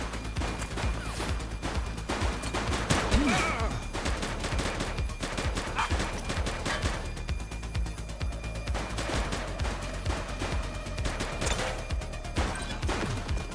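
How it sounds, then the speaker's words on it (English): Gunfire crackles through a police shootout in The Precinct video game: scattered shots and rapid bursts over a steady backdrop of noise, moderately loud and continuous, with no voices. "He's shooting!"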